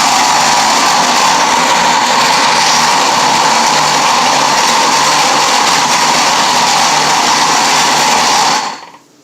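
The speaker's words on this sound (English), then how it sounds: "sometimes you have to help it along with the blender" A loud blender mixing spelt dough runs steadily with a strained motor whir for several seconds, then cuts off at the end.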